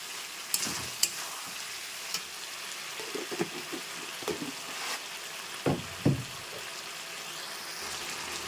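Curry fries in a pan with salt and turmeric while a spoon stirs it, giving a steady sizzle and hiss with scattered clinks and scrapes of the utensil against the pan, close by and with no voices.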